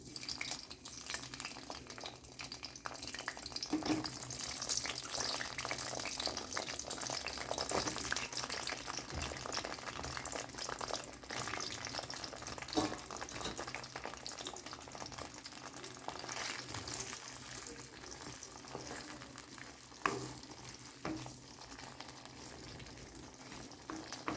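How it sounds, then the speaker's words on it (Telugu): Brinjal pieces frying in hot oil in a pan make a continuous crackling sizzle with small pops and stirring scrapes, close and constant throughout. "ఆయిల్ కొంచెం వేడెక్కాక మనం తరిగి ఉంచుకున్న వంకాయలు వేసి వేయించుకోవాలి"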